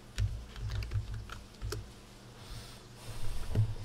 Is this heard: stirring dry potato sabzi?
no